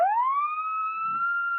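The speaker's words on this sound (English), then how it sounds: "real police siren, huh?" A real police siren device, built to be heard through doors, is given a short test: a loud rising wail that climbs quickly and then holds a steady high tone, sounding alone and close.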